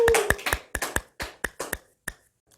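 Clapping from a church youth worship congregation welcoming the pastor: about a dozen sharp, distinct claps in an uneven rhythm, close and clear, trailing off into silence near the end.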